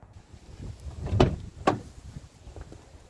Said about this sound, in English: The beauty of having a door that opens like this is it can provide a bit of shelter